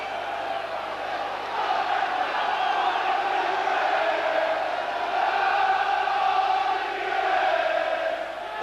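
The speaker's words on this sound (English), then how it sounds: "The crowd now behind them." A football crowd cheers for Swindon Town after they pull a goal back against Tranmere Rovers. The roar is broad and steady, sits at a distance, and swells and holds across the stands.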